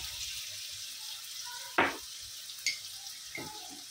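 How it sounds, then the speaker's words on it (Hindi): Onions fry in oil in a pan while a murgh musallam is prepared. The soft, steady sizzle stays faint, broken by a few sharp clinks of a utensil. "इसमें प्याज डालेंगे और प्याज को थोड़ा गुलाबी करेंगे"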